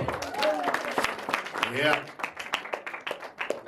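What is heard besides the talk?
audience applause at a seminar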